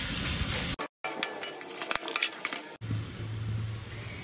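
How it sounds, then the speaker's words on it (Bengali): Chopped green chillies fry with cabbage and fish head in a pan, giving a continuous sizzle broken by stirring scrapes, a brief cut to silence, then more close frying. "এবার এর মধ্যে কুচনো কাঁচা লঙ্কা দিয়ে দেবো। দিয়ে এটা আবার একটু ভাজা ভাজা হবে।"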